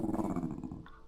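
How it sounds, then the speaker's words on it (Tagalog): A dog growls in a low, rumbling burst close by, ending in a short higher yip or bark, with no talking over it. "Ganun lang yung tahol mo."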